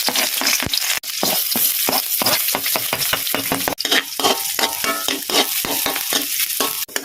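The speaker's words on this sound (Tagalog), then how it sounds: "maggisa na tayo ng bawang at sibuyas" Garlic and onion being sautéed in rendered pork fat while making Filipino bistek tagalog, with loud, continuous sizzling and frying broken by repeated scraping and clacking of a utensil stirring in the pan.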